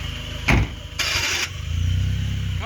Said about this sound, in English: Car's already running.